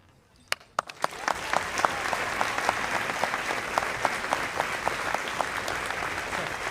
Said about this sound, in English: Just to get a round of applause.